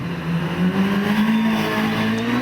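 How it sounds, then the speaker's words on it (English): Reynard TKD race car with a Suzuki-based V8 engine at a British hillclimb, struggling for grip on the run-up, its engine holding a loud, steady, slowly rising high-pitched drone close by, with no talk. "the car is struggling for grip as Trish tries to get the power down"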